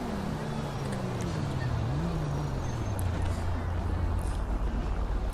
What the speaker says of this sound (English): I think the person who designed the mod said he's put a custom engine sound in for it.